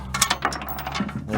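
A ratchet wrench loosens a nut while a top bow is being fitted, giving quick, close, rattling metallic clicks in a short irregular burst with no talking.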